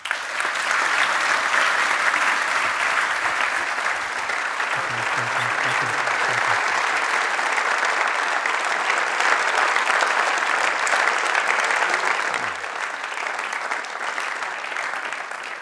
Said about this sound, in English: please join me in welcoming Benjamin Friedman with a big round of applause.